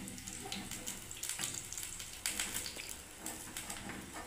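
Lentil fritters (bora) drop one after another into a bowl of warm water, giving soft plops and splashy water sounds over a faint sizzle of frying nearby.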